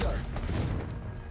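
A Confringo blasting spell in Hogwarts Legacy goes off as a burst of booming, crackling explosions, loud at the start and fading out over about a second, with game voices mixed in.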